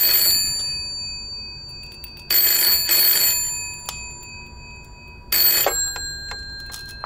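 An old telephone rings in the horror game Layers of Fear, two loud metallic bell bursts separated by silence, with faint eerie tones lingering between them.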